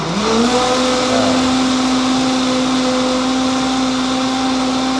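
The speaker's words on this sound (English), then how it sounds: "just blend it like crazy, all the way up. High." A blender motor spins up to high speed and holds there, loud and close, its whine climbing quickly at the start and then staying steady.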